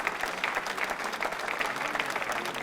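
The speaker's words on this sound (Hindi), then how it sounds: "तालियां बजाई उनके संबंध में" Sustained applause from a quiz show audience, a dense, even patter of many hands clapping at moderate distance throughout, with no talk over it.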